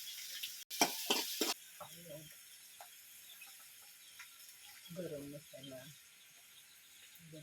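Onion drops into hot oil in a pan for dinda leaf bhaji and gives a few short, bursting sizzles at the start. A quieter frying hiss follows, with a voice speaking softly now and then.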